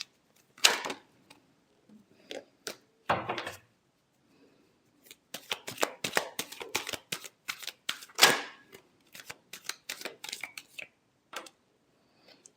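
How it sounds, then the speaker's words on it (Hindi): Tarot cards are shuffled in quick crisp riffles and flicks, with clusters of snapping card sounds, pauses between bursts and a few louder slaps, close and clear with no talking. "Last shuffle."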